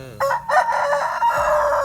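A rooster crows once, close and loud, a single harmonic cock-a-doodle-doo lasting under two seconds at a rural home where chickens are kept.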